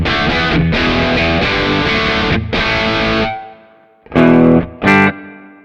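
Boosted, distorted electric guitar tone from a Kemper Profiler, played as loud sustained chords with short stabs near the end, heard alone without talk.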